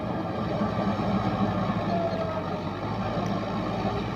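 A Fiat 640 tractor preparing a field among heaps of rice straw gives a steady, close diesel drone that holds evenly from start to finish, with no voices over it.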